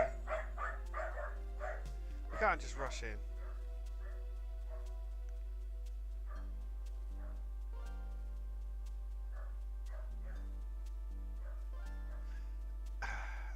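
A puppy barks and yips in a short cluster of sharp bursts at the start, with a couple of faint later yaps, over a steady game soundtrack hum while a person speaks briefly.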